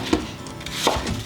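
A knife cuts a bruise out of an apple with two or three short, close cutting knocks against a wooden board, with quiet rubbing between them.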